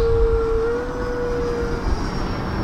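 An E-flite Viper 70mm electric ducted-fan model jet is in flight, giving a steady whining drone with a sustained tone that shifts slightly in pitch as it passes.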